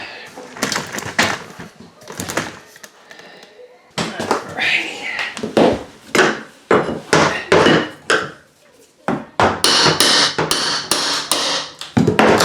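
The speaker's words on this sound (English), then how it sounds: "Might need to get me a hammer." Hammer blows knock a bathtub surround and baseboard loose during a bathroom remodel, a run of sharp, loud wooden strikes in irregular bursts with short pauses and some scraping between them.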